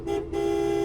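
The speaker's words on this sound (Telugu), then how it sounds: "హారన్" A used car with about 3000 km on it sounds its horn in one steady, loud, close toot lasting under a second.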